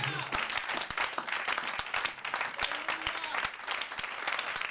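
A church congregation applauding steadily, a dense wash of many hands clapping throughout, heard at a moderate distance.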